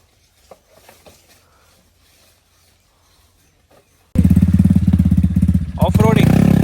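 A sports bike engine before an off-road ride near Chitradurga: after a quiet stretch with faint background noises, the motorcycle suddenly bursts into a loud, close, throbbing idle that holds steady with a slight rise near the end.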